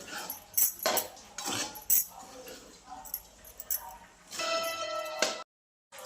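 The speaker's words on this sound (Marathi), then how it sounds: "मीठ टाकून परत एकदा हलवून घेते व्यवस्थित मीठ चांगलं मिसळत" Sago cooked with salt is stirred in a pot, with a spoon clinking and scraping against the metal in irregular bursts, loud and close, before the sound cuts out abruptly near the end.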